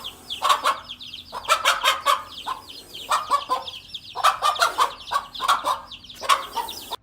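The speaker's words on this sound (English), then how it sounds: "the mother chicken did a pretty good job of directing her children to safety" A mother hen clucks steadily among her chicks, whose thin high peeping chirps come in repeated bursts, close by and fairly loud, with no talk over them.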